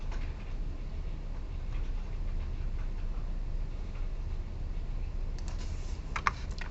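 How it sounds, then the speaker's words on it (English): Soft, continuous clatter of several keyboards being typed on during a lecture, a low steady patter of keystrokes with a few sharper clicks near the end, no voices. "I hear people still typing."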